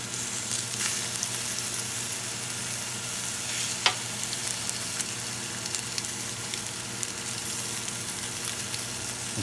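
A ribeye steak with butter sizzles on a cast iron griddle, a steady, continuous frying hiss with fine crackles and one sharper pop, close and even throughout.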